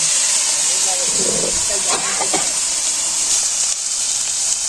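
Potatoes fry in a pan over an open cooking fire in a village, giving a loud, constant sizzling hiss with brief stirring scrapes, while a person talks nearby.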